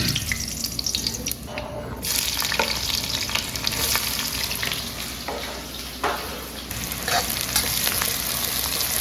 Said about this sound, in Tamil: எண்ணெய் ஊற்றி கொஞ்சம் கடுகு நல்லா கத்திரிக்காய் விட்டு.